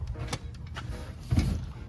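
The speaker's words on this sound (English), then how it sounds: "you can take the back seat out of this car" Rear seat being pulled out of an old Chevy Suburban, with a few close mechanical clunks and rattles, then a heavier thud and scrape toward the end, no talking.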